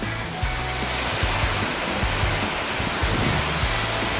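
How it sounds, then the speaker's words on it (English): Bridal Falls waterfall roars as a constant broadband rush of falling water, loud and close, with faint periodic low thumps underneath and no talking. "So this is the waterfall. They call it Bridal Falls."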